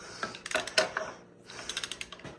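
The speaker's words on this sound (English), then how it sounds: "So I'm using a 3/4 inch ratchet" A 3/4 inch ratchet clicks against a stuck bolt while pulling the motor on a 1943 International I-4, short quick bursts of sharp pawl clicks in two groups, close and fairly quiet, with no talking.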